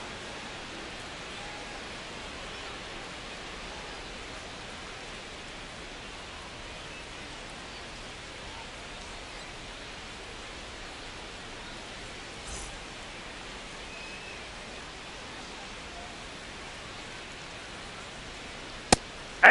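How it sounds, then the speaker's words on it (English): Steady rain falls across a baseball ballpark during a Phillies at Royals game, a continuous even hiss of drops that holds for the whole stretch, with a faint brief knock near the end. "This rain is not letting up."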